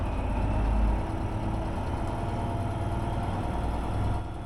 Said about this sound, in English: All right, let's bring the revs up.